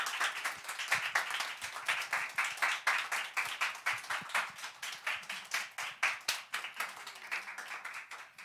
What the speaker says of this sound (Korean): 우리 한보현 선교사님 모실 때 우리 박수로